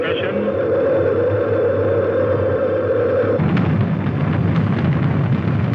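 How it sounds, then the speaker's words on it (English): Space Shuttle Challenger's main engines igniting on the launch pad in 1983, a steady loud roar that shifts into a broader, rougher rumble partway through, with a narrator's voice over it. "We have main engine ignition."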